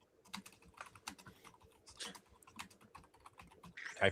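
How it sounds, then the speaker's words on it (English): Rapid clicking of keys on a computer keyboard, irregular bursts of keystrokes with a louder clack near the end, close and fairly quiet. "Typing, pressing enter."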